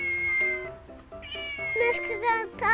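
A cat meows several times, short repeated calls rising into longer, pleading whines toward the end, close by.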